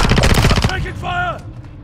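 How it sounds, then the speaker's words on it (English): Automatic gunfire in Call of Duty: Modern Warfare II, a loud, close, rapid burst lasting under a second, followed by a short electronic tone and game voice chatter. "Taking fire!"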